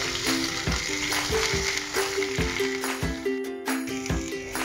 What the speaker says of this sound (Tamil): இப்போ இந்த கோவக்காயை வந்து நல்லா ஃப்ரை பண்ணுங்கள்.